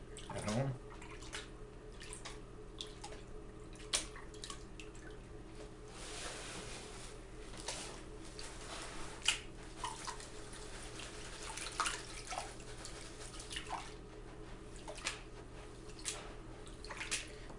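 Paydirt being panned in water with a ribbed gold pan: continuous sloshing and swirling water with scattered gravelly clicks, fairly quiet and steady, with faint talk in the background.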